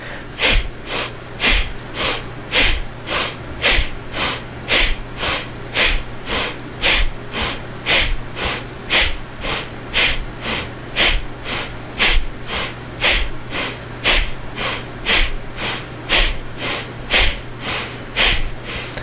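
Rapid, forceful breathing exercise in a yoga practice, with sharp rhythmic nasal exhalations repeating steadily about every half second, loud and close, with no talking.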